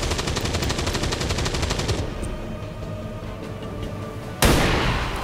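Sniper rifle fire in XCOM 2: War of the Chosen. A rapid, even mechanical rattle fades out, then a single sharp, loud blast hits near the end and rings on.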